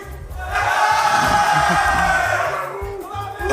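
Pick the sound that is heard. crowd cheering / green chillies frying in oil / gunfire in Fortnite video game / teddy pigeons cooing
crowd cheering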